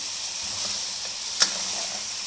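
Mutton fries with garlic in a karahi, giving a steady bright sizzle throughout with one brief clink of a utensil against the pan, close and continuous, with no talk.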